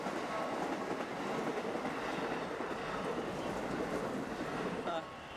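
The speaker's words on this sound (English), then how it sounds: "Train!" A train passes close by, a loud, steady rumble with rhythmic clickety-clack of wheels on rail joints that holds for about five seconds before dropping away at the end.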